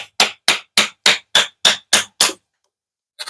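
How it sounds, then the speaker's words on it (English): Eight sharp, evenly spaced knocks as a knife is batoned through wood to split it, loud and close, followed by silence and one softer final tap. "as you're batoning through, it is pushing the wood away from itself"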